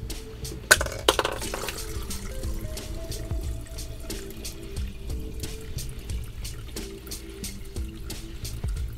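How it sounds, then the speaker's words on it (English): Epsom salt solution is poured into a copper zinc battery cell, giving a soft, close trickle and splash punctuated by a few light clinks of the container. "All I got left to do is to fill up the cell with the Epsom salt solution."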